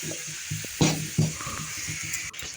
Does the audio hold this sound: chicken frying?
yes